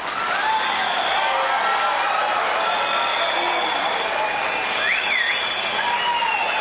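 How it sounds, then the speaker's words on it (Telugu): Audience in a hall at a forest department boot camp in Warangal claps steadily and fairly loudly, with voices and occasional whistle-like calls rising over the applause. "ఈరోజు గట్టిగా ఆయనకి చప్పట్లు కొడితే మంచిది"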